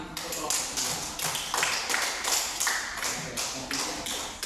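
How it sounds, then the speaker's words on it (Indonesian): A classroom audience claps for a group's presentation, rapid overlapping hand claps in repeated bursts close by, with a voice speaking over the applause. "Sekali lagi berikan tepuk tangan untuk kelompok 2."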